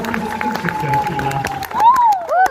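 Audience applause and crowd noise at Särkänniemi amusement park, a steady wash of clapping and murmuring with whistles rising near the end.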